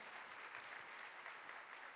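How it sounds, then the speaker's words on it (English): Sustained applause from an audience at a leaders and legends breakfast event, honouring women on stage; dense, steady clapping throughout with no talk over it. "Can we give them another round of applause?"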